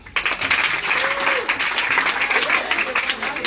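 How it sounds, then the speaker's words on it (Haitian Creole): A worship audience applauds in a dense, steady wash of clapping that rises quickly and holds strong, with faint voices underneath. "On applaudit."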